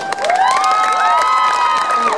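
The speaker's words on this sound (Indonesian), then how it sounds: "Wow, tepuk tangan sekali lagi untuk MA YMPI Rempang." Lively crowd cheering and clapping with shrill children's shouts at a school poetry event for Indonesian Independence Day, with bright whoops sliding above the steady applause.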